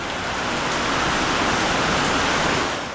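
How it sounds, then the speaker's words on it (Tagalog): Steady, dense rain hisses close by over a small house construction site on a 90 sqm lot, an even unbroken wash with no voices. "Medyo nagpapahina lang ako ng ulan."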